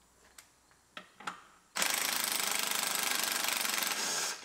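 A power tool unbolting the front during a repair: a few light clicks, then a loud rapid rattling impact burst held steadily for several seconds, close by.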